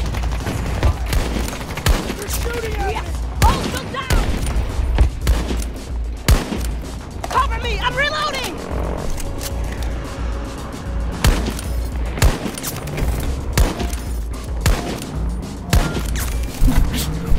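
Weapon fire in Battlefield 2042 comes as repeated loud gunshots in irregular bursts across the whole stretch, with explosions and game ambience around them and someone talking at points.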